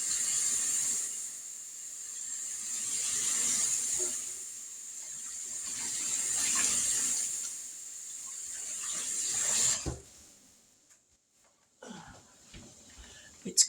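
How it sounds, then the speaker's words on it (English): Running tap water pours steadily into a sink as hands are washed after handling raw hamburger meat in a home kitchen, a constant hiss that cuts off near the end, followed by a few faint handling sounds. "Let me wash my hands right quick after handling that meat."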